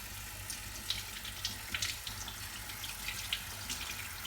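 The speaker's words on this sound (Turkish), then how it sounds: "Ardından suyu açıyorum." Tap water runs steadily into a kitchen sink while tripe is rinsed and turned inside out for Cretan-style mumbar, a close, continuous splashing flow with small irregular bumps and no talking.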